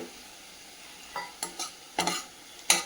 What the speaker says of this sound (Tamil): சிவப்பு கலராக நல்லா ப்ரௌன் கலராக ஆகிற வரைக்கும் வெங்காயத்தை வதக்கிட்டு